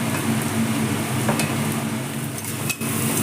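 Boiled, grated potato frying in a pan gives a steady close sizzle with soft stirring and occasional light scrapes of a utensil against the metal.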